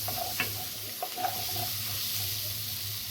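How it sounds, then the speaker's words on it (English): Onions and carrots sautéing in a pot for beef stew give a steady, soft sizzle close by, with a few brief utensil clicks and scrapes over the hiss and no talking. "the onions and the carrots are nice sauteed."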